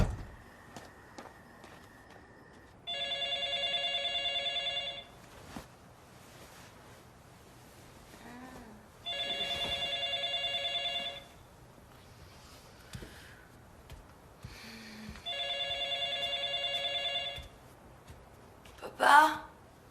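A telephone rings three times at steady intervals, each a few seconds of bright electronic trilling, in a quiet room where a faint voice is heard between rings.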